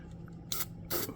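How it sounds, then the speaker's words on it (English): Two short hissing bursts from an aerosol can of John Deere green spray paint coating a Ford F150 truck frame, each lasting about a tenth of a second, close and moderately loud over a low background hum. "I'm going to shoot it with some spray paint, John Deere green"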